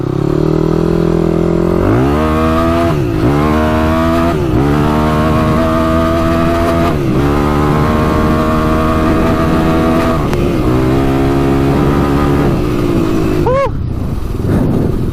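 A Yamaha YFZ450 quad's single-cylinder engine revs hard and steadily while being ridden, loud and close throughout, with repeated rising and falling pitch sweeps as the throttle is worked.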